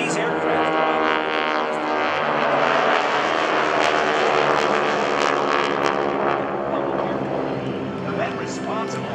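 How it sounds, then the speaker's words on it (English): GEICO Skytypers vintage propeller aircraft flying overhead at a military base open house airshow, a loud sustained droning engine roar with an announcer talking over it. "Continue to watch the aircraft overhead as they rejoin and then reverse to give you one more exciting photo opportunity across Show Center."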